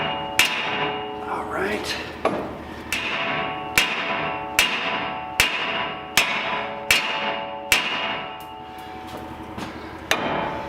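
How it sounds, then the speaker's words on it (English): A sledgehammer strikes a worn ball joint on a Chevy Silverado or GMC Sierra truck again and again, about a dozen loud metallic clangs at a steady pace, each one ringing out briefly, with a short spoken remark between blows. "it's moving when I hit it with a sledgehammer"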